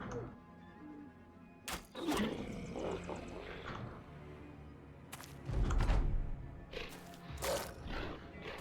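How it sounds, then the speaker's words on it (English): Several dogs growl and snarl in the Battle Brothers video game, rough low rumbles rising and falling over about eight seconds with sharper thuds and bursts scattered through, alongside game effects. "A lot of dogs."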